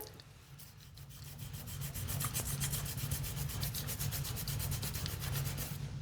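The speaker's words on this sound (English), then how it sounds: "I want to show you how I use my tongue cleaner" A tongue cleaner scrapes across a tongue in a steady run of short, rhythmic rasping strokes, close and fairly loud, with no talking.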